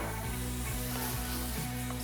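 Chopped fatty meat for carbonara sizzling in a pan without added oil, a steady dense crackle with a faint low hum underneath, close and fairly quiet.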